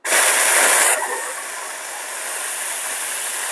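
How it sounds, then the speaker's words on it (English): Steam wand of an Ascaso Baby T Plus espresso machine gives a loud, close, steady hiss that bursts in sharply, then settles into a slightly softer continuous rush. "very powerful steam wand and steam"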